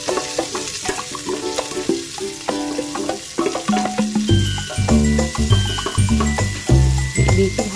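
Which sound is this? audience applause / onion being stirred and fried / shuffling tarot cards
onion being stirred and fried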